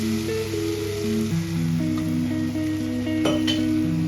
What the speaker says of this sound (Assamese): এতিয়া আমি বিলাহীটো একদম গলি যোৱালৈকে ভাজি থাকিম।